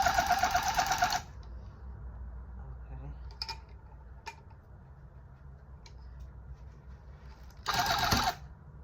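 An electric tufting gun buzzes loudly against fabric in two short bursts, one at the start and one near the end, with a quiet stretch and a few faint clicks between them.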